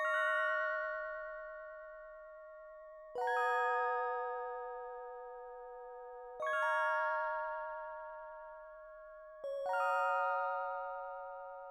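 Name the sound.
bell key synth sound from Analog Lab, octave up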